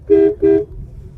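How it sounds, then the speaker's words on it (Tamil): Two short, loud toots of a car horn in quick succession, close by, over a low engine rumble. "கண்டிப்பாக ஒரு ஹார்ன் அடிக்கணும்"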